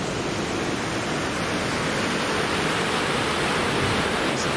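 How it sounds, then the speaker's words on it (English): Steady, dense rushing of a waterfall on Muddy Creek in springtime, a constant broadband roar with no breaks, close and fairly loud throughout. "That's the first real waterfall right there."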